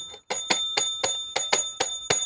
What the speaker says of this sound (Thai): มีกระดิ่ง